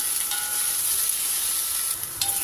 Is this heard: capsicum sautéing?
yes